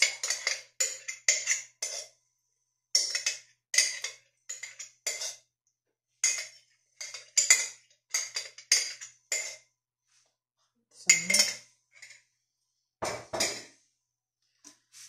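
Metal spoon clinks and scrapes against a bowl while batter with matsun (yogurt) is stirred for pastry, a steady run of short bright clicks in quick bursts with brief pauses, close and alone.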